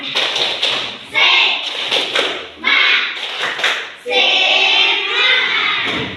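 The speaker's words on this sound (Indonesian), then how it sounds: "Kita tepuk semangat." A class of schoolchildren performs the rhythmic 'tepuk semangat' spirit clap in a classroom, bursts of patterned hand claps and slaps in quick sequences with short pauses, mixed with children's voices.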